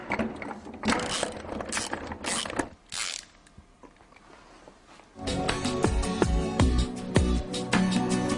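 Mechanical ratcheting and clicking from tightening the guide elements that secure a Siemens LX busbar trunking unit onto its spring mounting bracket, steady close clatter with a quieter pause midway before resuming louder.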